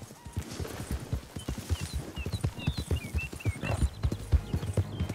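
Hooves clip-clop in an uneven rhythm close by, with chirping birds above and a brief whinny-like call.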